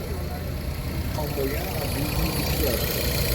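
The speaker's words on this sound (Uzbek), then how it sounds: "Motorda ishlashini eshityapsizlarmi, jigarlar? Soatchada ishlab turibdi mashina." A car engine idles steadily with a low, continuous rumble at a used car market in Sergeli, Tashkent, while someone talks over it nearby.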